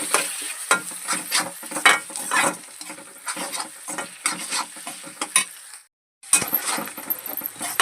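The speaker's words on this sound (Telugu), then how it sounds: "కొంచెం వేగిన తర్వాత అల్లం వెల్లుల్లి పేస్ట్ వేసుకోవాలి" Ginger garlic paste fries in a pan for a fish fry: a close sizzle broken by repeated metallic stirring scrapes and clinks, with a brief silent gap before the stirring resumes. No voice is heard.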